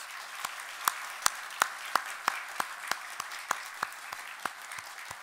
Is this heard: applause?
yes